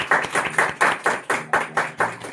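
Rhythmic group clapping at a Hindi Christian sermon, about ten even claps in a steady beat, close and fairly loud, with no talking over it.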